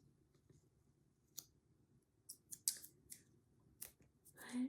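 An old price sticker being scraped off a small ceramic frame, heard as quiet, close scratchy clicks and short bursts spread irregularly over a faint background hum.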